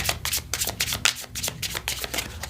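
A deck of angel number tarot cards is shuffled in a quiet ASMR setting, producing a steady run of crisp, close riffling flutters with no talking.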